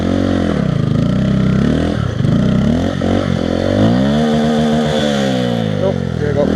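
A Honda Grom motorcycle revs hard while drifting in snow, its loud, close engine rising and falling in pitch through repeated throttle blips and a dip near two seconds, filling the whole stretch with buzzy, strained whine.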